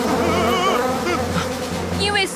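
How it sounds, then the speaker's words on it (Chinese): A cartoon swarm of bees buzzes steadily and loudly, a dense, continuous insect drone with wavering pitch that holds throughout without pause, alone with no talk. "你们看，蜂群又飞回来了。"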